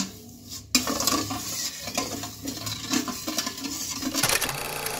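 Sugar syrup made with water comes to a boil in a pot for patishapta, a busy bubbling crackle close by with the odd clink of a utensil.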